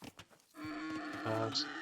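Sheep bleating in the Age of Empires video game, a short sustained bleat heard over game audio and a voice speaking, moderately loud and close.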